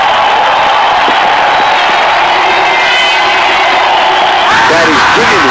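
A stadium crowd in the cricket video game Real Cricket 2018 roars and cheers loudly and continuously, a dense, sustained wall of noise with a commentator's voice running over it.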